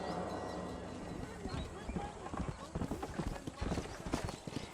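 A horse gallops in across rough ground in the Red Dead Redemption video game, its hooves clip-clopping in a quickening rhythm that grows louder as it nears, with game voices speaking over it.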